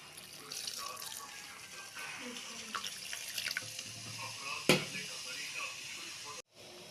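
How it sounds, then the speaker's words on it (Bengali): Water pours into a pan of catla fish curry from a tap, a steady splashing flow running for several seconds with a sharp knock near the end and faint voices in the kitchen. "এবার জল দিয়ে দেবো একটু।"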